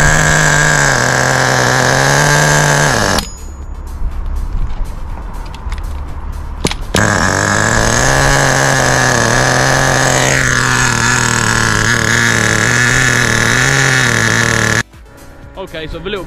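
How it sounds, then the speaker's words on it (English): A small nitro engine in an HPI WR8 RC car runs steadily at idle on its first break-in tank, with a buzzing, high-pitched drone that holds for most of the stretch, briefly dropping out once before resuming. "we've got it running, it's now just idling, doing its first tank of fuel"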